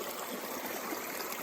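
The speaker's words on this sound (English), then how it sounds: "I'm standing right in the middle of the creek here." A creek rushes past an ice dam where the water drops about two feet, a dense, steady close-up wash with no pauses.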